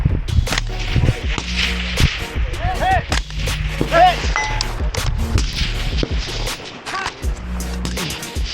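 Gunshots ring out at a shooting match, a series of sharp cracks spaced irregularly across the clip, loud and close with short ringing tails and faint voices in the background.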